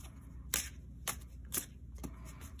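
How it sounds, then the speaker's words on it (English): Tarot cards being shuffled with a slight bend, giving four quick riffling bursts about half a second apart over a quiet background, close and fairly soft, with no voices. "I tend to put a little bit more of a bend in my cards when I shuffle them"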